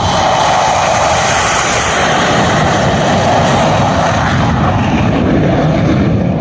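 A Rafale fighter jet roars low over the Purvanchal Expressway runway in India, a loud, continuous engine blast that fills the whole stretch with no pause.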